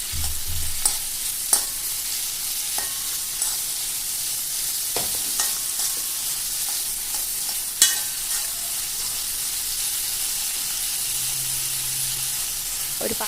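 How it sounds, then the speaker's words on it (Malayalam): Paneer cubes, rubbed with salt and turmeric, frying in butter in a pan, giving a steady soft sizzle with occasional sharper pops and stirring clicks, close and continuous with no talking. "അതിലോട്ട് ഇട്ട് കൊടുക്കുക. നന്നായിട്ടൊന്ന് ഫ്രൈ ചെയ്തെടുക്കാം."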